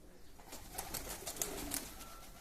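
Pigeons cooing, soft repeated low coos with a few brighter bird calls, faint and fairly close, no talk.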